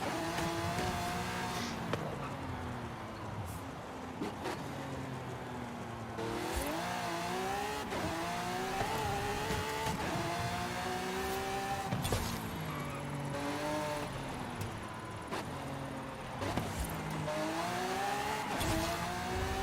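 Stradman's widebody Lamborghini Aventador driven hard around a track lap, engine rising and falling through gear changes with loud, continuous revving and occasional tire squeal, steady and close throughout.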